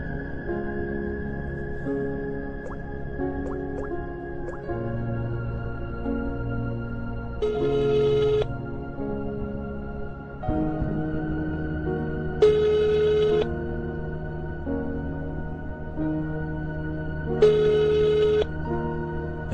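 A telephone rings repeatedly, its electronic trill coming in regular bursts about every five seconds over a steady background tone, fairly loud and close with no talk.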